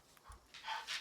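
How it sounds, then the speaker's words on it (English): A dog gives a brief low huff, then some soft whining or panting breaths, faint and close, with no one talking. "Do I hear a dog? You do."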